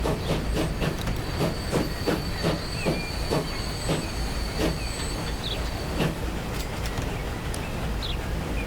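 Train running in Transport Fever 2 with UK steam mods, a regular clickety-clack of wheels over rail joints under steady rumble and hiss, the beat fading after a few seconds.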